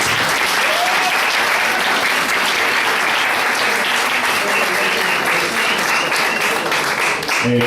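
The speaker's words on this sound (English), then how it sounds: "So please, a big applause for yourself, and thank you." A school audience bursts into loud, dense applause that stays sustained and even throughout, with faint voices mixed into the clapping crowd.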